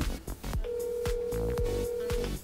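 Phone ringback tone during a call to a friend who is not answering, a steady single beep held for under two seconds beneath faint background chatter and clicks.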